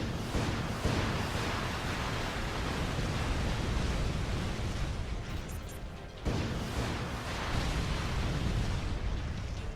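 Continuous heavy weapon fire and explosions in the Earth Defense Force: Iron Rain video game, a dense roaring barrage that stays loud throughout with a brief dip near the middle, with no talking.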